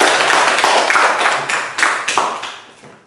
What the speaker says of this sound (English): Please give applause for this.